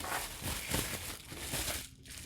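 Crinkling and crumpling of plastic bubble wrap as a small package is unwrapped, a close, continuous rustle with a few sharper crackles and a brief lull near the end.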